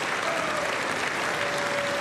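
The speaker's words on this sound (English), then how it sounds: "I wonder if Ilhan Omar's clapping." Sustained, dense applause from a large chamber audience at a presidential State of the Union address, steady and full with no pauses.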